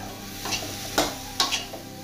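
Pork belly stir-fried with chilli, salt and fried garlic, heat just switched off: a low background sizzle broken by a few sharp spatula scrapes and tosses against the pan, close and brief, no voices.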